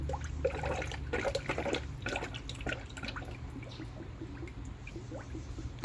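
Coolant trickles and drips steadily into the radiator of a 2005 Hyundai Sonata, with small gurgles and splashes over a low mechanical hum.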